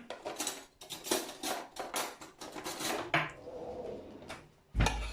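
A spoon scrapes and taps against a pot while scooping out a home-cooked dinner, a close series of quick metallic clinks and scrapes ending with a heavier knock.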